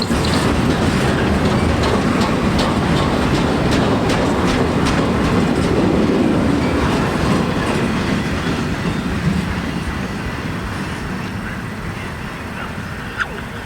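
A freight train carrying containers rolls past near Reading, Pennsylvania, with a loud continuous rumble and wheel clatter that holds steady and then slowly fades as the cars pass.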